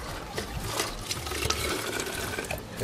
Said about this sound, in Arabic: حط بقى شويه ميه.